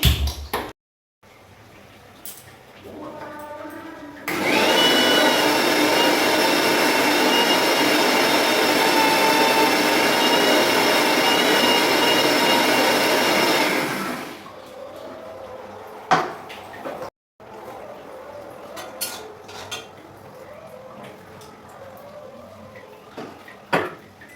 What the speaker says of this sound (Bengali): আমি জাস্ট মশলা বেটে নেবো